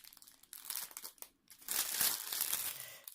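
Plastic packaging crinkles around a diamond painting kit as it is handled and unbagged, bursts of close, loud rustling and crackling with brief pauses, louder and more continuous in the second half.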